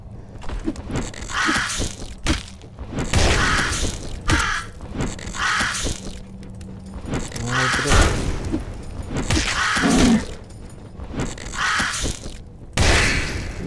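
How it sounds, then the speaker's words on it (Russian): Crows cawing in the dungeon game Legend of Grimrock, repeated harsh caws in separate bursts of two or three calls over a low game ambience, close and loud, with occasional thuds between. "Ну, две вороны, в смысле."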